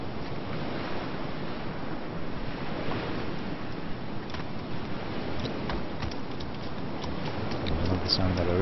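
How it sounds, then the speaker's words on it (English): Ocean surf in the video game DayZ, a continuous wash of waves and wind along a coastal harbor area, steady and moderately loud, with someone talking over it. "Sound of that ocean."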